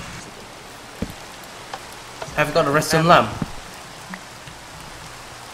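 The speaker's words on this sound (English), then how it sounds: "Oh, it's raining!" Rain falls steadily in the Minecraft video game, a soft continuous hiss with scattered drop ticks, heard beneath a brief spoken question.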